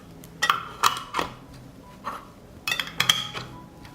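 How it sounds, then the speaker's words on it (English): Glass jars of peaches being sealed with clean lids: a handful of sharp glassy clinks and metal taps spread across a few seconds, close and moderately loud, with quiet gaps between them. "Close the jars with clean lids."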